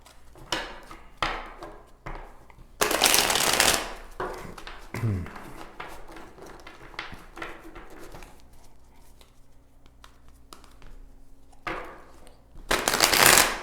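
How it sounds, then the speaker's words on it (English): A deck of tarot cards is shuffled close by in a few brisk riffling bursts separated by quiet pauses and small handling noises, with no talk. "Let me pull cards from another deck and see what else we get here."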